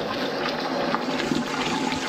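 Water is forced through the feed of a neglected, clogged steam boiler, a steady rushing and gurgling flow heard up close for a couple of seconds without speech.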